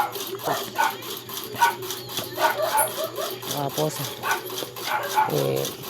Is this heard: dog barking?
yes